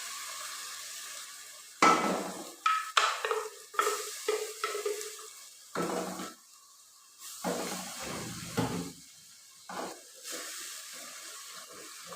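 A paste of tomato, green chili and onion hits a hot pot in a home kitchen, giving a sharp sizzle followed by repeated stirring scrapes and hissing bursts, close and fairly loud.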